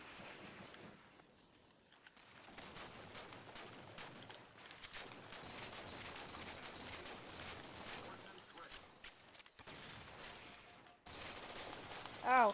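Rapid gunfire from the Halo 4 Big Team Infinity Slayer multiplayer mode, bursts of shots and explosions running steadily under a player's talk, with brief quieter gaps and a loud hit at the end.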